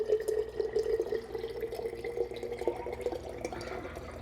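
Water pours into a bottle as a switchel drink is made, a close, steady trickle with a rising gurgling tone and drips.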